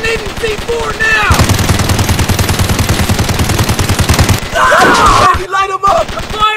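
A police cop simulator mobile video game sounds a loud, rapid machine-gun burst lasting about three seconds, with sharper single shots and game noise around it.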